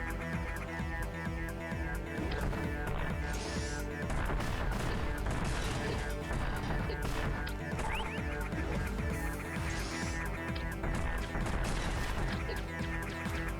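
Rapid bursts of weapon fire in an action video game, repeated blasts and impacts layered over constant loud game music and effects, with no pauses.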